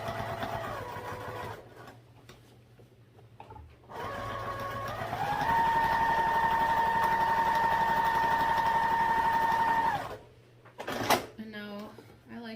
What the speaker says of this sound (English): I backstitched when I started on that side, because when you pull it through, a lot of times it tugs on that seam quite a bit